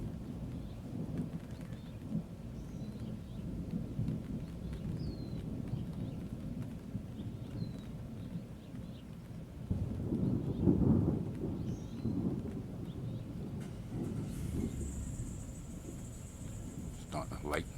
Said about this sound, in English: so I'm really glad that it's starting to rain